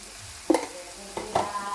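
Masala powder being stirred into Yippee instant noodles in a pan, giving two or three short scraping, clattering strokes over a faint frying hiss, close and quiet with no talking.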